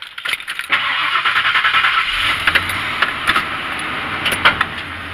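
A parked car's engine cranks and catches during an oil change, with a brief starter whir and keys jangling, then settles into a close, steady idle.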